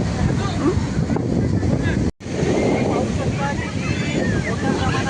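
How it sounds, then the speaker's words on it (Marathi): Rough, churning sea surf at Ganpatipule beach during the rains, a continuous loud wash of breaking waves mixed with heavy wind buffeting on the microphone, broken by one brief dropout midway. "पूर्ण समुद्र असा खवळलेला आहे"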